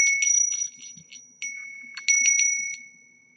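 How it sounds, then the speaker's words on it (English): A small metal altar bell on a little legged stand rings several times in close, clear bursts, bright sustained tones with short pauses between groups of strikes. "this is my bell. So it is a nice metal, and it's a little bell."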